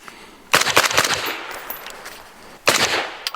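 An RR Weapons Ventus 556 rifle fires two rapid strings of loud, sharp shots about two seconds apart, with a quieter gap between the bursts.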